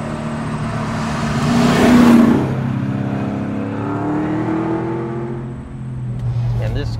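A 650hp 1967 Chevelle's engine rumbles and revs while driving on the highway, a loud, deep, sustained drone that swells around the middle, with someone talking over it.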